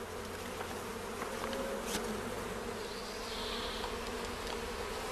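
Honeybees from a colony sample, buzzing steadily at moderate level as they are poured from a folded sheet into a specimen cup, with a low constant hum underneath and no talking.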